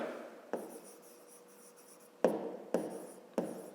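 A pen or chalk writing out a number series for a fifth-grade maths exercise, faint scratchy strokes with several sharp taps as marks are made, close and quiet with no talking.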